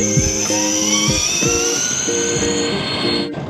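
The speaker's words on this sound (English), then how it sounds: "you can probably hear the sound of the whistle of the engine going on behind me" A Rindt manual electric Porsche 911, built on a 1980s 3.2 with twin electric motors, gives off a steady high motor whistle from inside the cabin, with low thuds recurring under it.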